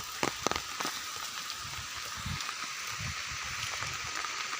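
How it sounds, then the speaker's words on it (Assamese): Light, steady rain falls on surfaces outdoors, a soft continuous patter with occasional close drips, no voices. "বৰষুণ টানকৈ দিয়া নাই, লাহে লাহে দি আছে"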